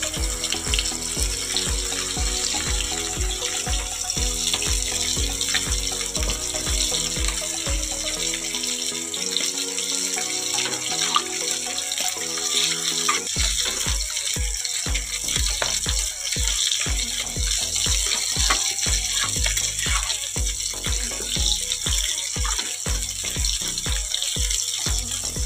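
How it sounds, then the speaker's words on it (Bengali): Water pours steadily into a cooking pot for a fish curry with cauliflower and potato, a continuous splashing, running stream heard close up throughout, with a brief gap in the middle and no talk. "দেখো একটু জল দিয়ে দেবো বন্ধুরা ভালো করে।"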